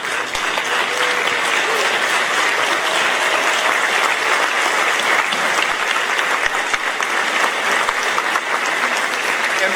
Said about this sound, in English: if you would stand with me to applaud this class of